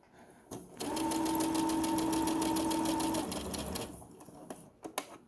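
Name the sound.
sewing machine stitching tote bag seam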